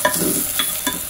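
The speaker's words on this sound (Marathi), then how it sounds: "आता आपल्याला हे चांगलं परतवून घ्यायचंय।" Dal and rice being sautéed for restaurant-style dal khichdi in a pan, a soft sizzle with a few brief stirring scrapes, steady and close with no talk.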